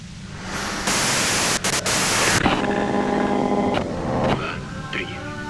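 Radio static from the video game Disco Elysium, a harsh hiss that cuts in abruptly and breaks up, then gives way to tonal, distorted radio noise.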